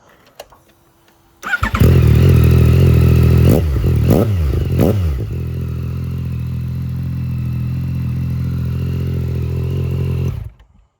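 A 2024 Yamaha MT-09 fires up with a loud roar, revs sharply three times through a throaty aftermarket Spark exhaust, then settles into a steady, rumbling idle before cutting off.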